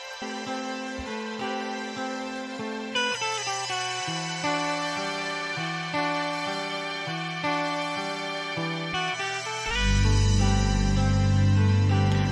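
Sampled guitar phrase doubled by a higher-pitched harmonizing copy, stepping through a melodic line alone, then giving way to a fuller, denser chord near the end.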